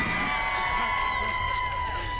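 An office crowd at Governor Gretchen Whitmer's inauguration in Michigan laughs and applauds. The noise is a steady, dense wash of many voices and cheering that runs evenly through the whole stretch.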